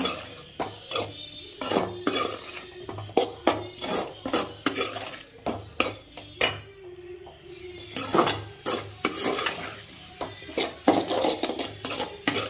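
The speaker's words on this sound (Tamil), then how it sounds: "தேங்காய் போட்டுட்டு கிண்டி விட்டுக்கோங்க" Grated coconut stirred into a ridge gourd stir-fry in a pan: a fast, uneven run of clattering scrapes and knocks of a spoon against metal, close and fairly loud, with no speech.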